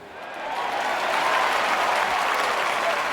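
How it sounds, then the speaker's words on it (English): A round of applause rises from an audience at an office-hours session, building quickly to steady, dense clapping that carries on for a few seconds with no speech. "Give yourself a round of applause."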